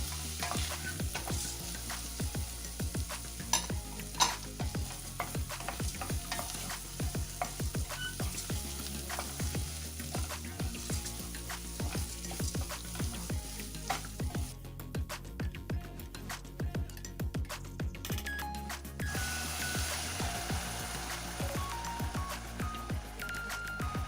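Rice and spices stirred and frying in a pan for a chicken stuffing pilaf, a steady close sizzle with repeated scraping and clinking stirring strokes throughout.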